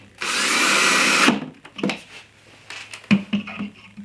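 A power drill drives a screw into MDF on a DIY cabinet in a shop, one loud whirring burst of about a second, followed by quieter handling knocks and clicks.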